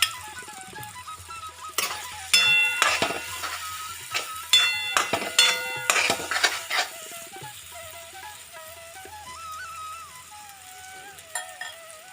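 Pre-fried potatoes tipped into hot spiced oil in a pan for jackfruit-potato danla, crackling and sizzling while a spatula scrapes and clinks against the metal in bursts, then the frying settles into a steadier, softer sizzle.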